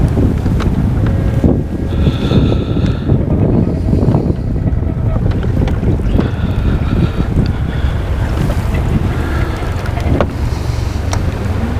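Steady wind buffets the microphone outdoors by the water while fishing, a loud continuous rushing roar with gusts and low rumble throughout, no talk.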